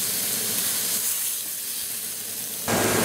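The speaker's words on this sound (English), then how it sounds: "I've got a very hot skillet sitting right over here, and all I'm going to do is pull this out and sear it real fast" Pork tenderloin searing in a very hot skillet, an even loud hiss and sizzle that steps up sharply near the end as the meat sears harder.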